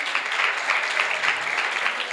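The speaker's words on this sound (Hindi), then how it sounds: "बजा दीजिए ताली फिर" A seated audience at a Jain scripture discussion gathering claps together, a dense steady patter of many hands at moderate distance throughout, with no talking over it.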